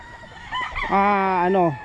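A rooster crows once at close range on a gamefowl farm among Green Legged Gilmore birds, a long harmonic call rising then falling, with brief clucking and low chatter before it.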